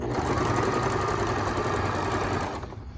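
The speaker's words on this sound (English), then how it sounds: "I'm going to use the 1/4 of an inch and just top stitch." A sewing machine top stitching a fabric face covering runs at steady speed with a fast rhythmic mechanical whir close by, then slows and stops near the end.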